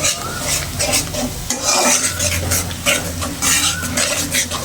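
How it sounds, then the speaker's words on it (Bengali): A spoon scrapes and stirs masala spice paste with onions as it fries in a pan, sizzling steadily with repeated rhythmic scraping strokes, close and loud, no talk. "তো মশলাটা কষানো হতে থাকুক।"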